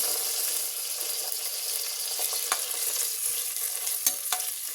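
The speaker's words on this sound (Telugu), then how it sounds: "ఈ టమాటో కూడా ఫ్రై చేసుకుందామండి" Onion and tomato fry in a pan with curry leaves and green chillies, a steady hissing sizzle punctuated by several light clicks and scrapes of a stirring spoon.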